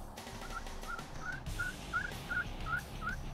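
Osceola wild turkey gobblers approaching a decoy, calling in a run of about eight short repeated notes at an even pace, clear over a soft outdoor background.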